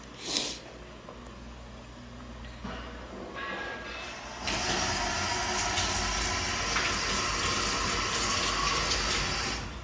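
A toilet flushes with a sudden loud rush of water that keeps pouring and hissing steadily, close by, after a few quieter clicks and knocks.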